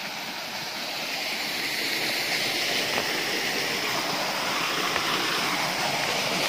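A stream of cold water near a waterfall on the old Gombak–Karak road rushes in a steady, broad, continuous wash without pauses or voices.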